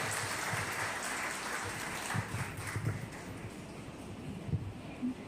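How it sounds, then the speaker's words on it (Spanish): An audience at a Lenten church retreat in San Román claps steadily, a dense sustained patter of many hands that thins slightly toward the end, with a few louder claps standing out. "Vamos a darle un fuerte aplauso en esta primera participación."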